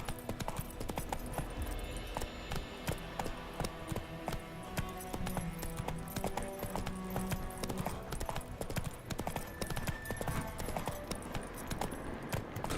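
Hooves of a horse being ridden in The Witcher 3 clip-clop in a quick, continuous rhythm for several seconds, close and clear over a busy layer of game ambience and music, with no talk.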